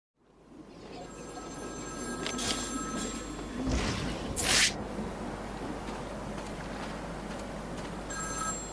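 A telephone rings in the Batman: Arkham City video game, a bright electronic trill heard near the start and again at the end, over steady ambient hum with a couple of whooshing noises between.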